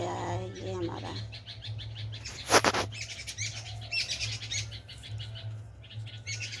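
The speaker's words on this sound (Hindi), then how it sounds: "देखिए कितनी चिड़ियाँ तितलियाँ आपस में लड़ाई कर रही हैं" Garden birds chirp and squabble among shrubs and flowering plants, with busy overlapping tweets and calls throughout, a brief burst of flapping or rustling near the middle, and a steady low hum underneath.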